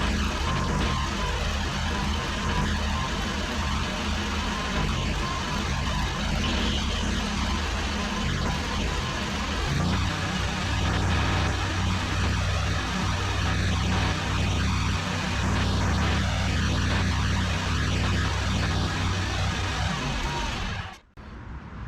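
A ZT200 zero-turn mower runs continuously while driven back and forth to circulate hydraulic fluid, its engine drone steady and loud for about twenty seconds before abruptly cutting out.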